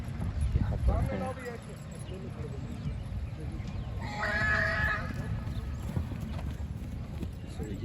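Stallions at the 9th Marwad Horse Show in Jodhpur: steady hoof clip-clops with a clear neigh midway, set in a busy outdoor crowd with people talking throughout.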